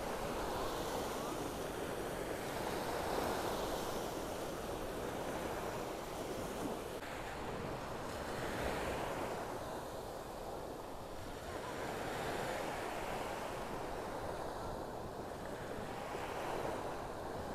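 Steady surf rolling onto the beach at Ho Tram resort, a continuous broad wash of waves with gentle swells in intensity, mixed with light wind noise and no clear voices.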